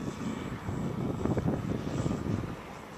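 A T-28 model airplane's engine drones through a slow flyby on a windy day, swelling as it passes close and then easing off, steady and fairly loud.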